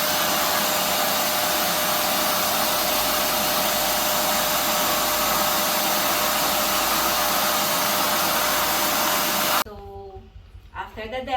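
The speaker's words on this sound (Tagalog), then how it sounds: "Then attach it to the hose. Then you can start vacuuming your, in this" A Total TVC1412 800W wet and dry vacuum cleaner runs on a rug with a loud, steady close whine and rush, then cuts off abruptly near the end as a voice begins speaking.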